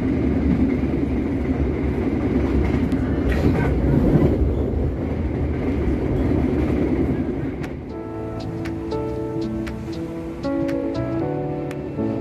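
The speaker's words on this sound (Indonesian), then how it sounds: "Di peron jalur utama adalah rangkaian kereta api Lodaya." The Lodaya passenger train stands at a station's main-line platform, with a steady rumble and station din. Later, higher tonal hums and brief clanks come in, and faint voices mix in the background.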